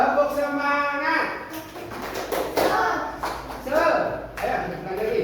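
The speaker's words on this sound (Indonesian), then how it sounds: "Tepuk semangat." A classroom of students performs a rhythmic 'tepuk semangat' spirit clap during a morning lesson: bursts of group clapping in patterned beats, close and fairly loud, mixed with children's chanting voices.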